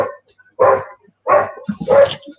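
A small puppy yaps indoors in three short, evenly spaced barks, fairly close and clear, with a brief squeaky yelp at the end and near silence between the barks.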